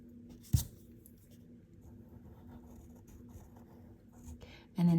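A pencil drawing on paper, soft faint scratching strokes up close, with a brief bump early on and a voice starting at the very end.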